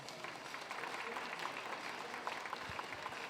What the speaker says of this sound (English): Let's give John another round of applause